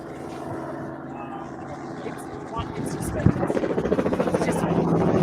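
A helicopter buzzes overhead during a car and bike rally day on the Don River Dash, its rotor chop rising into a loud rhythmic pulse as it nears, with people talking underneath.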